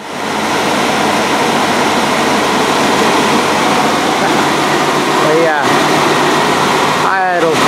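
A truck engine idles steadily and loudly just after a plugged fuel filter was fixed, running a little high, a constant close rumble and whir that fills the clip with a couple of brief squeaky chirps near the end.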